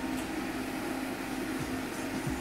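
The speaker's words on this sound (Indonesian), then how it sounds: "Ini suara kipas apa, Bang? Kok kenceng amat," A loud PC power supply fan in a freshly built computer whirs steadily with a constant airy hum and no talking.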